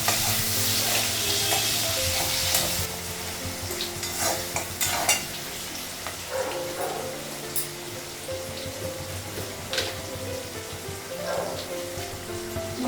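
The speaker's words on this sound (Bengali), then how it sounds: "পেঁয়াজটা ভাজা হয়ে গেছে" Onion frying and being stirred in a pan: a steady sizzle runs throughout, with repeated scraping strokes and light clinks of the spatula against the pan, close and fairly loud.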